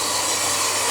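Four metal corner plates being cut for a solar panel array frame, giving a loud, steady, harsh grinding hiss that runs without a break.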